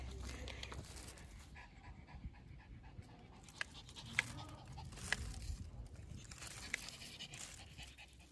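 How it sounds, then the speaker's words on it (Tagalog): A dog panting with its tongue out during an outdoor walking exercise, quick breathy pants under faint outdoor background noise, with a few soft clicks and distant fowl-like sounds. "Talaga yung aso. Lawit yung dila eh."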